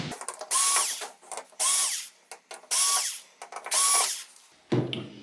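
Power drill driving screws into a Samsung UN60FH6003 TV whirs in four short, loud bursts spaced about a second apart, with brief clicks and handling noise between them.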